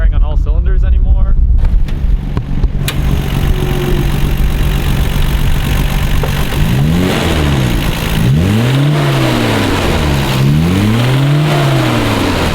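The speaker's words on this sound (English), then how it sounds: "the engine tone completely changed, and it also definitely was not going at full power" Nissan Skyline GT-R on a race track with an engine that has changed tone and lost power, heard as a close rumble that settles and then swings through several rising and falling revs, while a person talks early on.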